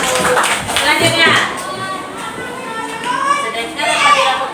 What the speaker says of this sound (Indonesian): Benar, tepuk tangan dulu